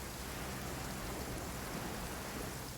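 Steady rain hisses as a dense, unbroken wash in the video game Genshin Impact, with no voices.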